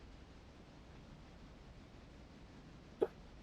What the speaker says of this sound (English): I'm really sorry to anybody who doesn't like hearing the sounds of hiccups